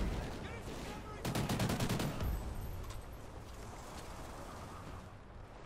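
Gunfire in the Call of Duty: Ghosts video game: a loud burst of rapid shots for about a second, then a softer rumbling battle bed that carries on to the end.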